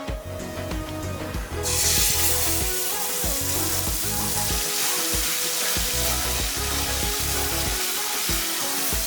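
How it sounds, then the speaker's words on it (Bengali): Whole cumin seeds and a ground spice paste hit hot oil left from frying boal fish, bursting into a loud, dense sizzle that holds steady with faint stirring clatter underneath. "দিয়ে দিচ্ছি গোটা জিরে ফোড়ন আর এখানে সব যে বেটেছিলাম সেই মশলাগুলো আমি এই তেলের মধ্যে দিয়ে দেবো"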